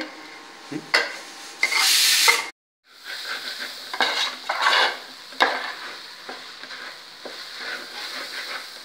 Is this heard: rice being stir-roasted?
yes